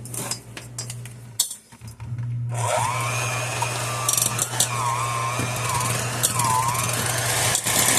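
An electric hand mixer creams butter and brown sugar for cookie dough, starting after a short pause and then running loud and steady with whirring, wavering motor pitch and faint clatter of beaters against the bowl.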